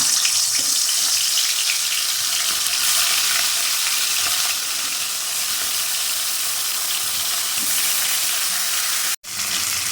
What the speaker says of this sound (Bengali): কড়াইয়ের মধ্যে বাটা মাছগুলো দিয়ে দিলাম